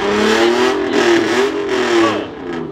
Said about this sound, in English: Caleb, check out this Ferrari.